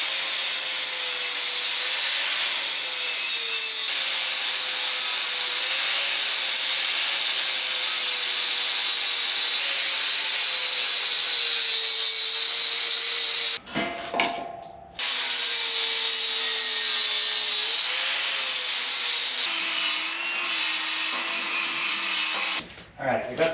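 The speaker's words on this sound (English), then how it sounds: "Now it's to finally finish off getting rid of extra metal here and here, and then grinding down some of these welds." Power tool grinding down welds on a metal bumper, a loud steady whine that runs nearly continuously, breaking off briefly once midway and again near the end.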